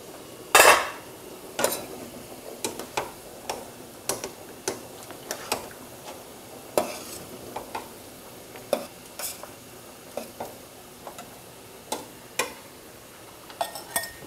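Linguine with clams gets stirred in a pan, with soft scattered clicks and taps of a utensil against the pan over a faint sizzle, spaced irregularly and heard up close with no talking.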